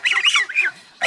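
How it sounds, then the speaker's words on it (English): Geese honking on a farm, a few loud, close, overlapping nasal calls in quick succession with a brief pause before one more honk. "We have 3 new runner ducks and 2 new geese."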